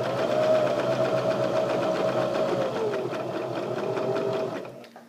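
A sewing machine runs steadily while stitching a pillow, a close, continuous whirring hum with a rapid needle rhythm that slows and stops at the end.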